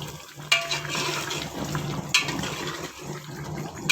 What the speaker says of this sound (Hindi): मैंने प्रेशर छोड़ दिया।